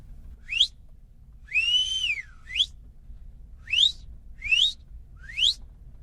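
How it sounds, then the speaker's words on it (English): A person in a deer stand whistles at a deer, six clear rising whistle notes with one longer wavering note among them, spaced evenly and sounding quiet and close over a faint low hum. "I'm going to take my microphone away from my mouth so I can whistle"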